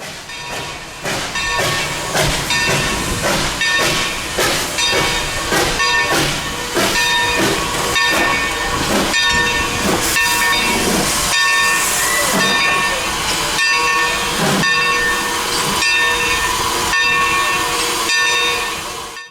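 A 106-year-old Mikado steam locomotive on the Texas State Railroad hisses loudly and steadily while running, with rhythmic chuffing beats and clanking under a constant bright steam roar, close and powerful.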